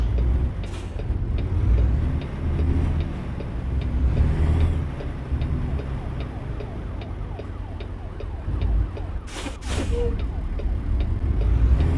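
A fire engine siren wails in American Truck Simulator, its rising and falling tone sounding over steady truck engine and road noise on a highway drive from Phoenix to Los Angeles.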